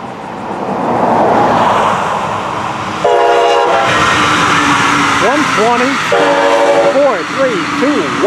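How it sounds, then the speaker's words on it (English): The pink Brightline passenger train rushes past nearby with a loud, steady roar of wheels. Its horn sounds in two long blasts, and warbling bell-like tones ring over the passing cars. "Looking for a return trip of 722 Brightline. It's the pink train."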